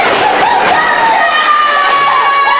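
Hockey arena crowd at a WVU versus Virginia Tech game roars and cheers steadily, a loud dense wall of voices with rising shouts and whistles throughout.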